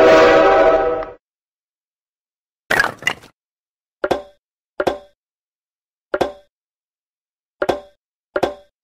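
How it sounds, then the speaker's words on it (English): A train horn blasts for about a second in a children's sound puzzle. Silence follows, then a scatter of separate sharp clicks and knocks spaced out irregularly. "Train."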